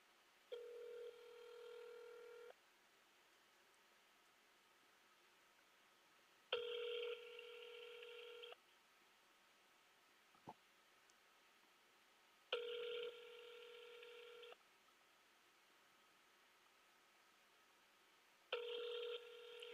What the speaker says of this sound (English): Please state your name after the tone, and Google Voice will try to connect you.